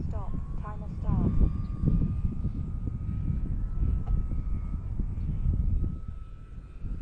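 The engine of a radio-controlled model airplane drones steadily in flight, loud and continuous throughout, mixed with wind noise outdoors during a buddy-box training session while people talk over it.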